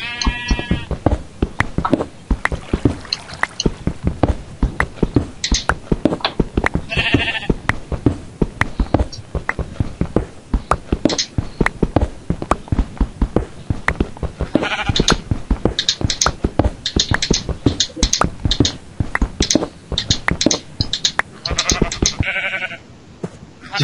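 Sheep in a video game bleating in several short, scattered calls over a dense clatter of rapid clicks and thumps, loud and busy throughout.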